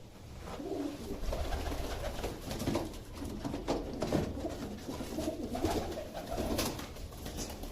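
Several pet pigeons, including white-eyed birds, cooing close by in low repeated throaty warbles that overlap continuously against a faint steady background hum.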